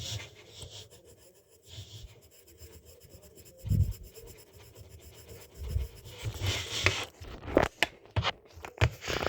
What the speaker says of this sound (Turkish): İlk önce My Melody'lerin gözünü siyaha boyayacağız arkadaşlar